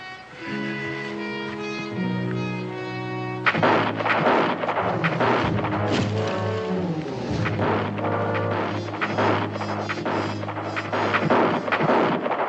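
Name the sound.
gunfire in a crossfire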